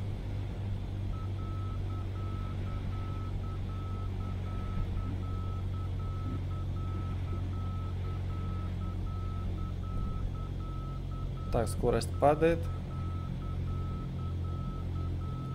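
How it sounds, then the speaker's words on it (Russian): A Cessna 152 actuator in Microsoft Flight Simulator 2020 sends out a short burst of rapid beeps over a steady low piston engine drone. Someone speaks briefly and quietly. "Это пищит привод, ничего страшного."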